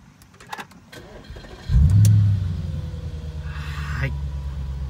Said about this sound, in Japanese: このスタートボタンで、はい、ブレーキを踏んで押す